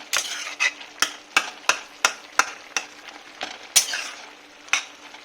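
Metal spatula mashing shrimp and papaya in a pan, a series of sharp scraping clacks at an irregular, roughly half-second rhythm, close and fairly loud, over a faint steady sizzle.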